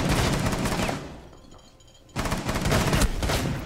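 Rapid gunfire bursts in Rainbow Six Siege, dense crackling volleys close and loud, a short lull near the middle before shooting resumes just as fiercely.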